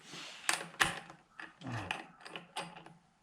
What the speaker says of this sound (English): I'm gonna go ahead and get this wrench it came with